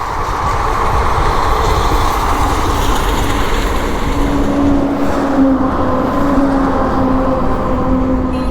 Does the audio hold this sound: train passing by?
yes